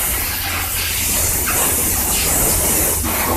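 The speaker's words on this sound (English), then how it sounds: "I'm going to blow off the engine with some compressed air as a preliminary step" Compressed air blows loose dirt and debris off a 2002 Craftsman Tecumseh 4.25 HP engine, a loud, continuous broadband hiss close to the microphone with slight swells, and no talking.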